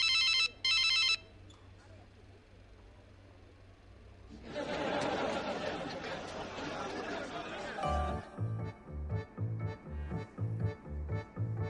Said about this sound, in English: Why is everyone so scared of the phone that they flinch when it rings?